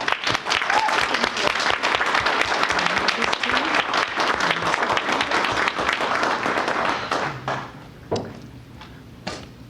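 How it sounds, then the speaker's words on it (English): A room at a board of trustees meeting breaks into loud, sustained applause from many hands, which tapers off near the end into a few scattered claps and small knocks. "Ms. White, we applaud you."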